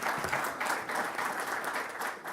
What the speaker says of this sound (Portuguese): penso que merecem uma salva de palmas